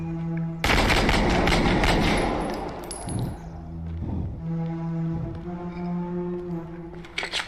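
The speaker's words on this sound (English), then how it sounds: "Shots fired! Shots fired!" Gunfire in a first-person shooter trailer for the game Unrecord: a sudden loud burst of shots, then sustained ringing tones and rumble that slowly fade.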